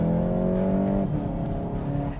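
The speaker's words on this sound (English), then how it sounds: "This is me shifting up from second to third." A 2019 VW GTI Rabbit shifts from second to third gear, its steady engine drone dropping in pitch midway as the upshift lands, heard loud and close from inside the car.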